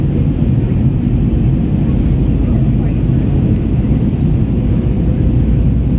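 Steady low cabin roar inside an American Airlines Airbus A321 climbing out during a go-around at LAX, loud and continuous throughout, with a voice beginning an announcement over it.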